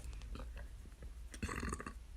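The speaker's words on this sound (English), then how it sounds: "whenever I burp like that" A single human burp, a rough guttural croak that swells and then fades, heard close up and alone against quiet room tone.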